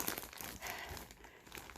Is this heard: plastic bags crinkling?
yes